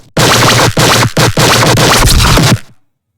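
A music-production drop pushed through saturation with the heat set to maximum and noise bias off: loud, harsh, distorted bursts that cut in and out in a choppy rhythm, with brief gaps between hits, then stop abruptly.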